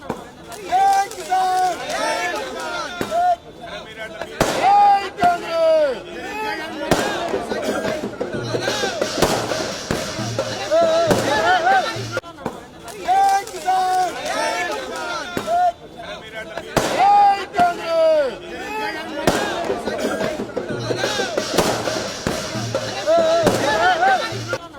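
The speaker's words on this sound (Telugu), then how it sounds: "టపాసులు కాల్చి వేడుకలు చేసుకున్నారు కార్యకర్తలు." Firecrackers crack and pop in repeated sharp bursts at a street celebration by party workers, heard beneath a continuous voice talking over them, with crowd noise in the background.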